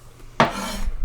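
Sardines and onion drop into a frying pan with a sudden close clatter and sizzle, then a short scraping rattle of the pan.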